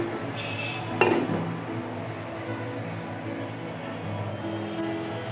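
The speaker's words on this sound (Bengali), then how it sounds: "তা আমি ঢেকে দিলাম।" A lid goes onto a pot of Kabuli pulao with a single metallic clank, followed by faint clinks and low kitchen background hum.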